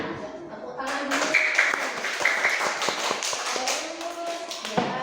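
Children clapping hands in a classroom, a burst of quick, uneven claps and taps close by, mixed with voices talking and chattering over them.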